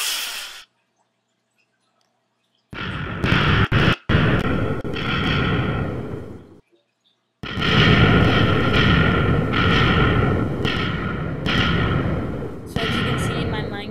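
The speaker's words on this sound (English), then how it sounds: "Ooh, that's one giant explosion." A huge chain of nuke TNT blocks detonates in Minecraft, a loud rumbling roar of overlapping blasts that cuts out briefly, then surges again in long thunderous waves, with a voice speaking alongside.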